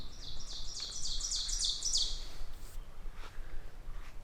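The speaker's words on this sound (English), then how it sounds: "it's always cool coming out here and hearing the birds chirp." High, rapid bird chirps trill for a couple of seconds, then fainter calls follow over a soft outdoor hiss.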